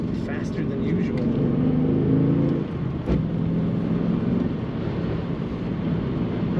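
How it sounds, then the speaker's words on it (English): A 2006 Pontiac GTO engine pulling steadily in third gear through a roundabout, a low continuous drone heard from inside the car while someone talks over it. "Third gear in the roundabout here takes it very well."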